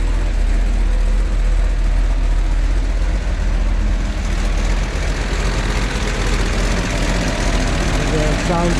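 A 1969 Plymouth Road Runner HEMI 4-speed sits idling nearby, a loud, steady engine drone with a faint knocking texture that runs unbroken for the whole stretch, with no one talking.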